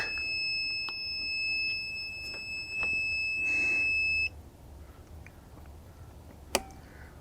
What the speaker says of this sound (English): Hear a beep.